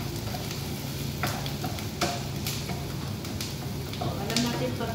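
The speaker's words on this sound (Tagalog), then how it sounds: "Hulog na din natin yung ating bawang." Garlic frying in hot oil for Chinese rice, a continuous sizzle with occasional taps and scrapes of a spatula against the pan.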